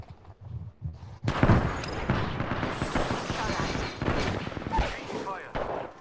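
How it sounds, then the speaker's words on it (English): Heavy gunfire erupts in a Destiny showdown, a dense barrage of shots and booms after a quiet start, with voices talking over the fighting. "Opening fire."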